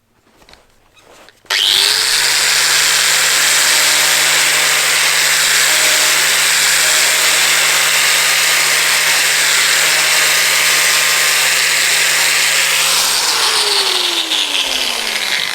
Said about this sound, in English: polish the surfaces, the flat surfaces, but I also use it to grind the edge